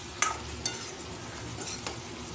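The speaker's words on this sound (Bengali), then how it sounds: "এবার ভালো করে একটু মশলা দিয়ে লঙ্কাগুলো ভালো করে নেড়ে চেড়ে কষিয়ে নেবো" Green chillies coated in spices are stirred and fried in a pan, giving a soft, low sizzle broken by a few faint spoon scrapes and clinks against the metal; no one speaks.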